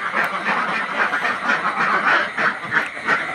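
A flock of farm ducks hit by duck plague quacks loudly and close in repeated, overlapping bursts, with a busy rhythmic chatter running the whole time and no speech.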